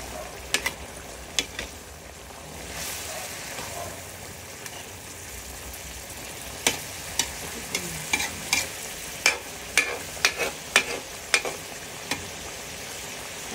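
Bottle gourd (upo) being sautéed in a pan for ginisang upo, a steady soft sizzle with a run of sharp clinking stirring strokes, up close and growing more rhythmic toward the end.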